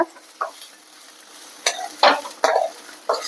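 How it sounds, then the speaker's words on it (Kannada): Cluster beans fry in a little oil in a pan while a utensil stirs them: irregular close scrapes and clatters over a soft, steady sizzle. "ನಾನು ಇವಾಗ ಚೌಳಿಕಾಯಿನ ಹುರ್ಕೋತಾ ಇದ್ದೀನಿ ನೋಡ್ರಿ ಸ್ವಲ್ಪ ಎಣ್ಣೆ ಹಾಕಿ ಹುರಿಯಾಕತ್ತೇನೆ"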